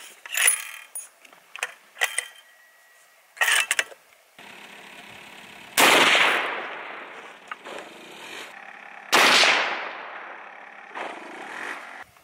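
Two loud, sharp .338 Lapua rifle shots ring out a few seconds apart while a Vortex Diamondback Tactical scope is sighted in outdoors, each blast trailing off in a long echo, with scattered handling clicks and rustles before them.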